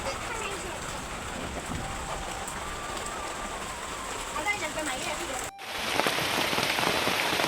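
Rain falls on a village home in a steady hiss, with a faint voice-like murmur early on, then it suddenly grows louder and denser after a brief cut.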